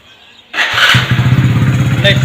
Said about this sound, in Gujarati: તો સ્ટાર્ટ કરીએ છીએ બાઇકને